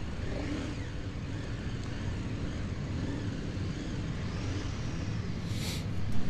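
A motorcycle rides down steps at the 2018 NEC motorcycle show in Birmingham, its engine a steady low drone with a crowd-like wash behind it, swelling slightly louder near the end.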